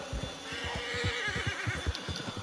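Horse in the Red Dead Redemption 2 video game whinnying, a shaky, wavering neigh over rapid clip-clop hoofbeats, moderately close at low overall volume.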